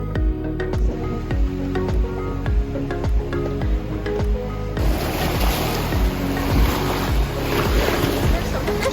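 Surf and wind at Panama City Beach, Florida, with waves washing in under heavy, buffeting wind noise on the microphone, loud and close, growing into a broader roar partway through.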